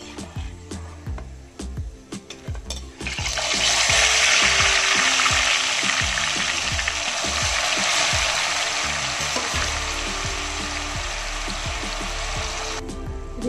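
Grated carrots for carrot halwa fry in a pan with a loud, steady sizzle that swells after a few seconds and holds, with light stirring clatter and no talk.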